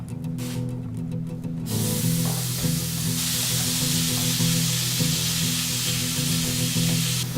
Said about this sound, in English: We're going to put it in a hot pan and render it down nice and low and slow